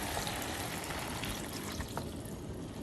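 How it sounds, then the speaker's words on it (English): Red wine poured into a Staub 4-quart cast-iron cocotte holding browned beef and bacon to deglaze the pot, a steady close pouring and sizzling wash of liquid with no speech. "We're gonna deglaze the whole pot here using our red wine."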